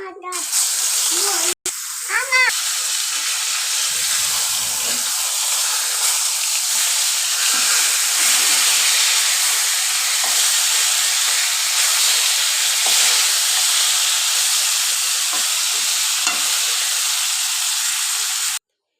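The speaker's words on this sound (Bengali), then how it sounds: "চলেন এবার ভেজে নিব কড়াই আমি সরিষার তেল বসিয়ে দিয়েছি গরম হোক তারপর মাছগুলো ভেজে নিব" Fish fry in hot mustard oil in a wok, giving a loud, dense, steady hiss that runs nearly unbroken from start to finish.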